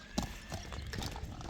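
A grey horse walks nearby, its hooves clip-clopping in a few quick, close strikes over a short stretch.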